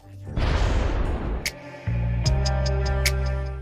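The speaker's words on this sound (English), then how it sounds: "as soon as he lifted the wooden lid, an explosion occurred" A bomb with a metal body, hidden in a wooden box, explodes as the lid is lifted: a sudden loud, rumbling blast that roars for over a second, then gives way to ringing tones and music.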